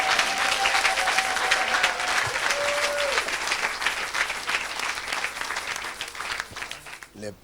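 Church congregation applauding and cheering to acclaim the Lord during an evangelistic preaching service, a dense sustained roar of clapping and shouts with a voice briefly rising above it, fading slightly toward the end.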